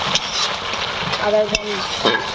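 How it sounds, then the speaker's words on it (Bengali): Raw garlic and ginger paste sizzles and is stirred in a pan, with a soft, steady frying hiss and occasional scraping taps. "এটাকে ভালো করে কষিয়ে নিতে হবে, মানে রসুন আদা সবই কাঁচা, ভালো করে কষিয়ে"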